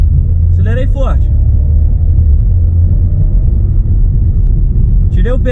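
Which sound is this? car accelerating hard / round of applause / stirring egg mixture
car accelerating hard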